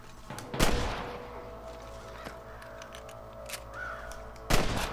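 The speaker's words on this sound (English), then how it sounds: "I don't know where they're shooting from." Gunfire at an outlaw camp in the video game Red Dead Redemption: two loud, sharp gunshots, one early and one near the end, with fainter scattered shots and ambient noise between them.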